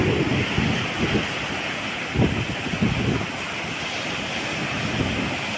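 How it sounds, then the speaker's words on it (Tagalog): Steady roar of surf with repeated heavy waves about two meters high crashing during a strong northeast monsoon, mixed with wind buffeting the microphone. Loud and continuous, with no talking. "Grabing alon niya."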